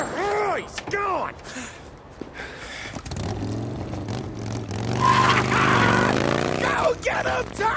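A motorcycle chase unfolds in Mafia: Definitive Edition. Engines rev and whine with rising pitch that builds louder toward the end, mixed with in-game voices.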